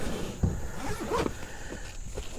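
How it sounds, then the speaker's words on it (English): A heavy-duty zipper on a pistol range bag is pulled in a few short rasping strokes, close and fairly quiet, with no talking. "the zippers appear to be very heavy duty"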